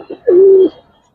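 A silver-coloured pigeon gives one close, clear coo, a short soft lead-in followed by a sustained low tone lasting about half a second before it stops.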